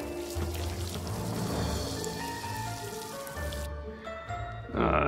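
Water pours and patters steadily while a goat is rinsed in the VR game Deadly Daycare VR, a continuous splashing stream that cuts off and then resumes with a louder burst near the end, over faint game music.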